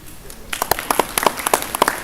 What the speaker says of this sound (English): Can you all have a big round of applause for some of your friends who are yet to come here?